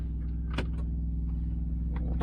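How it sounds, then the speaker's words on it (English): Semi truck diesel engine idling with a steady low rumble, with a few brief clicks and knocks on top. "I'm gonna turn on the truck"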